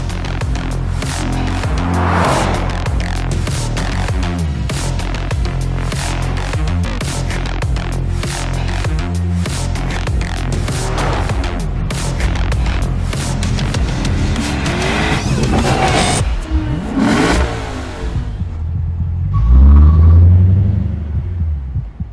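A 2022 Lexus IS 500 launch edition at a racetrack revs its engine hard, with a loud, close roaring that rises and falls through repeated gear changes, plus occasional tire squeal, before the car fades away.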